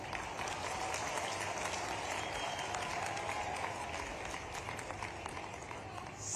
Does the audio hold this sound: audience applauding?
yes